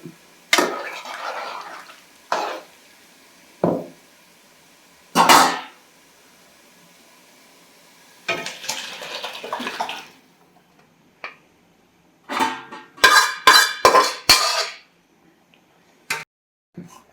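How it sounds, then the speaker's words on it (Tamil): Goat intestines and water are poured into a cooking pot for a boti gravy, giving a series of separate splashing and gushing pours, some short, others lasting a second or two, with quiet gaps between them. "இப்போ நம்ம இந்த குடலை இப்படி தண்ணியோடய ஊற்றிடுவோம்."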